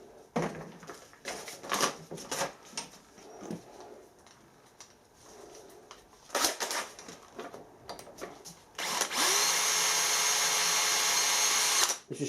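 Scattered clunks and shuffling of tools, then a power drill kicks in loudly and runs for a few seconds drilling bronze, whining steadily before stopping.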